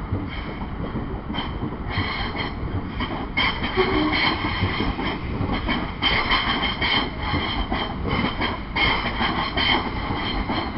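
Train passing close by, class 375 electric multiple unit 375307 running near Eastbourne, a steady loud rumble of wheels and carriages with faint rhythmic clatter sustained throughout, no talk.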